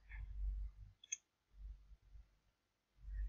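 A computer mouse gives a single crisp click in a quiet room, brief and close, between stretches of low background rumble.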